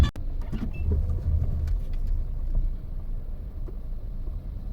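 A car rolls into a parking spot in a Dubai Mall garage, a close, low engine and tire rumble that stays steady, then eases, with a sharp thump right at the start.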